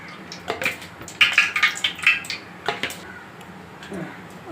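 Whole spices sizzle and pop as they are tempered in hot oil in a pan for mutton gravy, with quick crackles and small clinks in a brief busy burst that then settles, close and moderately loud.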